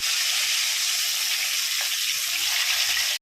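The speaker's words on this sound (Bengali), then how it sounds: "আমাদের সাদা তেল গরম করা হয়ে গেছে, মাছ ছেড়ে দেবো।" Rohu fish pieces fry in hot white oil, a dense, loud, continuous sizzle that holds evenly throughout before cutting off abruptly.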